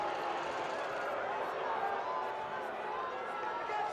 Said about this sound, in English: Crowd expressing their displeasure.